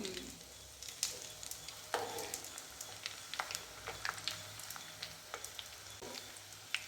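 Crushed garlic cloves with their skins on sizzle steadily in hot cold-pressed oil, a soft continuous frying hiss with occasional louder pops and spatters.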